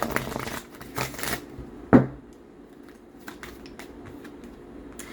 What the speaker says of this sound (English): Let's move over to our oracle cards.